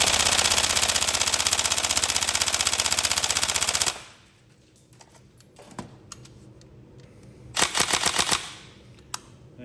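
A Tokyo Marui 416 Delta airsoft electric gun fires a loud, rapid full-auto burst for about four seconds, followed by quieter mechanical clicks and then a second short burst near the end.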